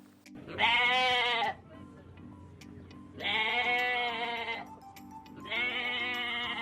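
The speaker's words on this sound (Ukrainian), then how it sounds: "Так, це вівця." Three long, loud sheep bleats, close up, separated by short quiet pauses.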